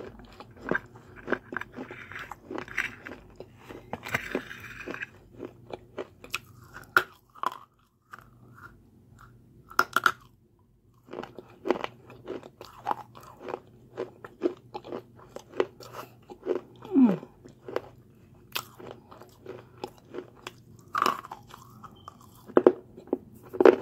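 Pink kaolin clay is bitten and chewed in crunchy mouthfuls, close to the microphone. There are dense, irregular crisp crackles and snaps, with brief quiet pauses between bites and no talking.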